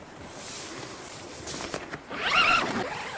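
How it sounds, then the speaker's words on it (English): Zippers on the double-zip door of a Naturehike one-man tent rasp open in a couple of short pulls, the longest near the end, close and fairly loud. "See, it's a double zip"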